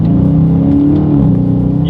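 2021 Dodge Charger Scat Pack muscle car accelerating hard through its gears with paddle shifters, a loud, close engine note with rising pitch and a brief shift change near the end.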